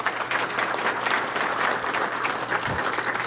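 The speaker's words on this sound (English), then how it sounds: "I think that's really worth a round of applause" A crowd claps in steady, dense applause. It holds at an even level throughout and no one speaks over it.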